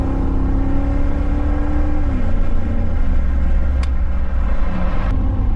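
A Ferrari engine breathing through a Tubi exhaust holds a loud, steady drone that dips slightly in pitch partway through, a sustained close engine note with no voices.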